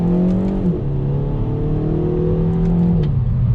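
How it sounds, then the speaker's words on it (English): A 2020 Kia Forte GT accelerates hard at full throttle, its engine note climbing loudly and close. Quick upshifts drop the pitch before it rises again. "I want to do another acceleration test here on throttle."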